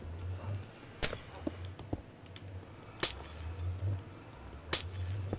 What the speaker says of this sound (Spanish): Me da una cosica cada vez que rompo cristales